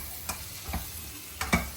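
A spoon stirs spiced rajma curry masala with garam masala in a pan, making a few soft scraping strokes against the metal over a faint, steady sizzle.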